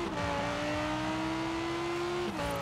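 Steady, loud engine drone of an Italdesign Zero, a V10 car in the racing game Forza Horizon 4, holding a rising pitch under load with a brief shift-like dip near the end, no talking.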